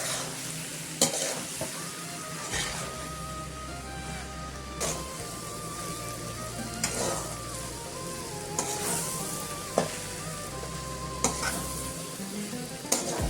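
Iftar chaat is mixed together with green chilli and coriander leaves, making a continuous close stirring and scraping sound with a low hum underneath and occasional sharp clicks.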